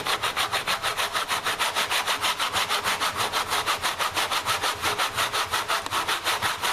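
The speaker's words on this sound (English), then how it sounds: "We're going to use the tenon saw, and the tenon saw fits into the slot, into the slots of the jig," A tenon saw cuts a wooden tangram piece held in a jig, giving steady, rhythmic back-and-forth rasping strokes, close and loud, with no talking.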